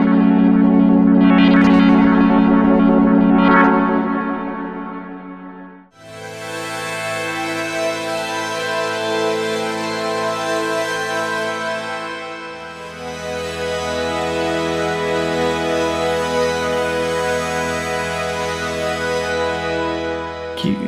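A Hydrasynth synthesizer preset plays a dense, brittle, effects-laden pad with echo and distortion, shifting in long sustained chords with a brief dip near the six-second mark, alone and with no talking.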